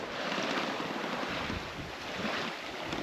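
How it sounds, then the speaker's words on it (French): Steady, loud rush of wind and surging waves across open water aboard a sailboat crossing the Gulf Stream, a continuous broadband roar with swelling gusts and no voices. "On est quand même dans de la bonne vague, dans du très bon vent"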